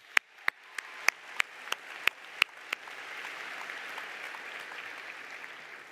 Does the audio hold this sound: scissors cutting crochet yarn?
no